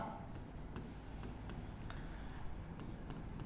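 A pen writes out a maths solution on paper, making soft, close scratching strokes in short bursts and taps, faint and alone.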